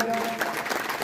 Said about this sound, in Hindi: पहले तो जोरदार तालियां